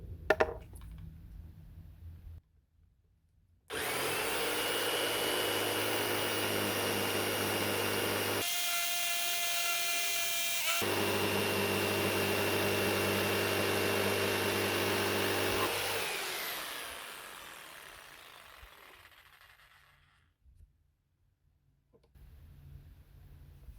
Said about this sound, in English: So I'll just continue now to cut that round with the jigsaw